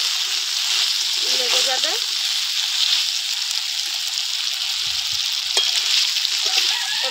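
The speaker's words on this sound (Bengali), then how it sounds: "এবার বেগুনগুলো একটু নেড়ে চেড়ে নেবো" Eggplant pieces coated in spices sizzle steadily in a hot pan while being stirred, with a few soft scraping strokes over the continuous frying hiss and a short spoken phrase partway through.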